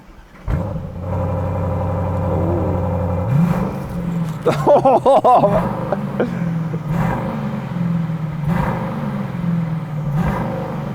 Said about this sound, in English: time to just have a listen to the DBX 707's new exhaust system. So let's fire it up